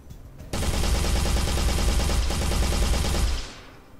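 Assault rifle firing full auto in an Unreal Engine 4 game: a sharp onset into about three seconds of dense, rapid, evenly spaced gunshots, loud and close, then a quick ringing tail fading out.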